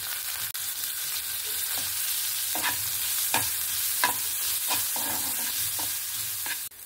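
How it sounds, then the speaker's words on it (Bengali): Chopped onion sizzling in a pan with garlic and green chilli, a steady bright frying hiss broken by regular scraping stirs of a spatula. "এবার আমি পেঁয়াজ কুচিটা দিয়ে দেব।"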